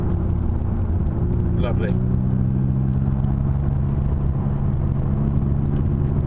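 A McLaren 570S at Thruxton hums under gentle throttle, its engine a steady low drone with no sharp revving, while a voice briefly speaks over it.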